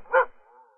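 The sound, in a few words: dog barking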